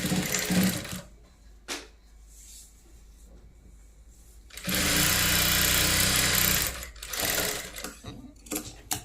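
A sewing machine stitches a lined blouse in two bursts: a short whir at the start, then a longer steady run of close, fast mechanical chatter, with brief clicks and quiet handling between.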